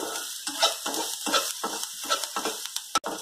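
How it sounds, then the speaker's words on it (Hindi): Onions frying in a pan for a stuffed pointed gourd dish give a steady close sizzle, broken by repeated scraping stirs and a sharp clink of the spoon near the end, with no talking. "मेरा प्याज भून गया है, थोड़ा सा कलर भून देगा तब मैं इसमें और मसाले डालूंगा"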